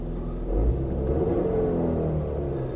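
A car engine rumbles and revs with a steady low drone, a faint rattling hum running beneath it throughout, with the air conditioning on.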